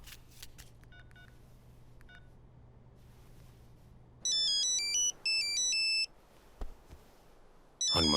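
An electronic phone ringtone plays a bright melodic pattern in two bursts and then starts again, after a few soft beeps over a quiet background.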